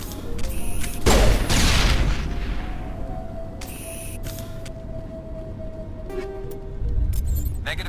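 A grenade blast booms in Mass Effect, one loud burst with a long rumbling decay, followed by scattered lighter gunfire and mechanical clicks.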